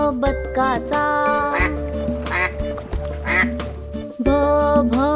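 A duck's quacks sound repeatedly over a bouncy children's song teaching the Marathi alphabet, with sung voices and music running underneath.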